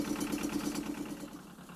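A Yanmar 1700 tractor engine idles just after starting, a close, steady rhythmic diesel chug with a regular pulsing beat and slight dips in loudness.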